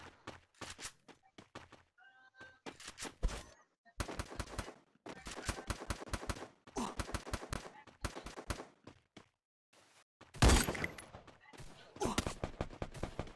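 Rapid bursts of video game gunfire in quick repeated volleys, with crisp automatic-weapon rattles and a louder blast near the end, over faint background chatter.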